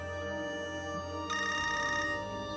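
A telephone rings indoors with an incoming call, a steady electronic trill that grows brighter partway through, close and clear, with no one speaking.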